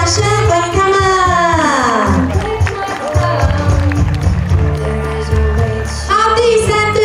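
Crowd applause and clapping at a wedding as groomsmen and bridesmaids enter, steady and loud under an emcee's amplified voice and background music.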